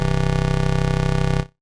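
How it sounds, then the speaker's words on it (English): Massive synth wavetable patch blending saw and square waveforms, pitched down an octave, a loud buzzy sustained low note with dense harmonics and a slight pulsing flutter that holds steady before cutting off abruptly. "which is a combination of a saw and square waveform"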